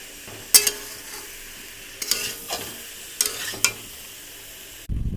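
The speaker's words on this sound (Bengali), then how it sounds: "এবার আদা বাটা দিয়ে আমি কষিয়ে নেব" Vegetables sautéing with ginger paste in a pan, with a soft steady sizzle and several sharp spatula scrapes and stirs against the metal, close and clear with no talking.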